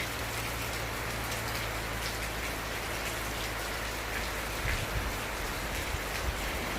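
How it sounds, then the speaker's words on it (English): The first rain of the rainy season in Cameroon falls outdoors as a steady, dense hiss of drops hitting surfaces, with no voices. "this is the first rain of the year, or the raining season"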